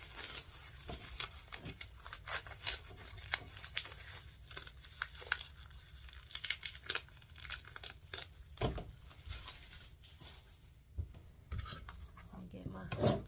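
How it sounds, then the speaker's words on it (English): Ten-inch decorative mesh ribbon crinkles and rustles as it is handled and cut, with close, uneven scratchy bursts and snips, while a person talks softly throughout. "I'm going to cut this mesh"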